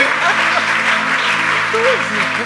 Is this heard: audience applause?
yes